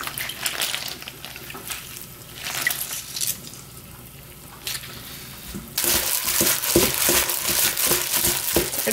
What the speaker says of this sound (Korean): 이렇게 해서 주물러 주시면 돼요.